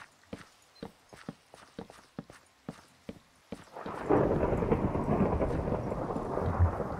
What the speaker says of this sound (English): That is some loud thunder.